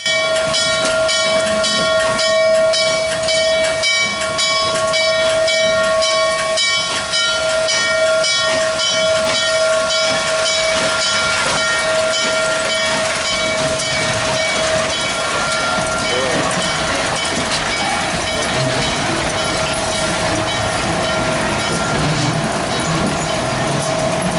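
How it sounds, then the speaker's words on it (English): Steam locomotive N&W 611 rolls along the Strasburg Railroad track with a loud, steady hiss and chuffing, a sustained whistle-like tone running through the whole stretch. "611 was then moved out of the siding to be coupled back up to the front of the train"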